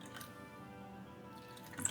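Splash of lime juice poured into a blackberry mule cocktail, a quiet, brief drip and trickle that peaks near the end over a soft room hum.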